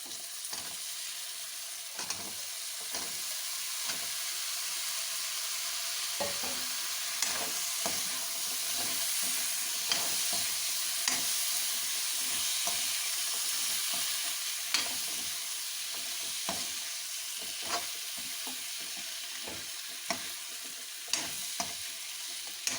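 Potatoes fry in spiced masala in a pan for a Punjabi-style radish pod and potato dish, giving a steady broadband sizzle with frequent clicking scrapes and taps as the mixture is stirred, fairly close, with no talking.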